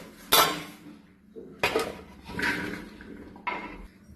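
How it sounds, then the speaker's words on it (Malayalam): A metal pressure cooker and pots are handled in a home kitchen while cooking jackfruit: four separate sharp clanks and clatters, close and distinct, with quiet gaps between them. "അതിനായി കുക്കർ എടുത്തിട്ടുണ്ട്."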